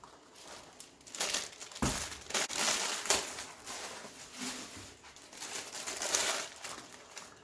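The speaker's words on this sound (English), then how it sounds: "Just going to open up the tubing." Dollar Tree mesh tubing being opened, giving a series of dry crinkling and crushing rustles in irregular bursts, fairly close and moderately loud, with no voices.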